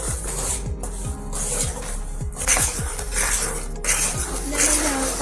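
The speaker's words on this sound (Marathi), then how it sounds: "आता आपण हे मिश्रण प्रॉपरली मिक्स करून घेणार आहोत." Jaggery syrup with cardamom being stirred in a pan for tilgul sweets, a steady scraping and clinking of a spoon against the metal pan with rhythmic strokes, close and continuous.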